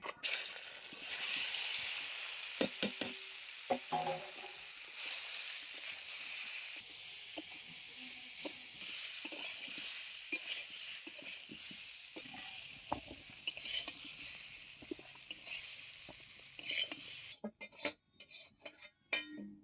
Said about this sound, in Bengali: এবারে আমি একই তেলের মধ্যে আলু হিঁচড়টা খুব ভালো করে কষিয়ে নেব।